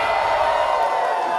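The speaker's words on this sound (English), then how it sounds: "The crowd is fired up here." Wrestling crowd at a CCW Chaos show cheering and whooping, a steady roaring wall of voices held at a constant level, with no distinct words.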